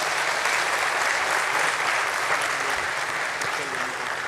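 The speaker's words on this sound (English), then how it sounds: "that definitely deserves a round of applause" Audience applause fills a stock exchange listing ceremony for an ethnic retail chain at the BSE, a steady, dense round of clapping that holds at an even level throughout.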